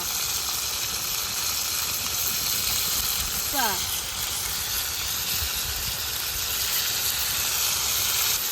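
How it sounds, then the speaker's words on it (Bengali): Onion and garlic frying in a pan make a continuous close hiss and sizzle lasting several seconds, with a brief rising squeak partway through. "পেঁয়াজ রসুনটা খুব ভালোভাবে বেজা নিচ্ছি"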